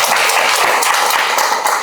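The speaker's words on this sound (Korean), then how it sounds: "축하의 박수를 보내주시죠" An audience claps in congratulation, giving dense, steady applause that is loud and near and lasts the whole time.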